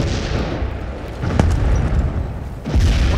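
Tank cannon fire and explosions in a video game, a loud booming blast with a sharp report partway through and rumbling impacts that swell again near the end.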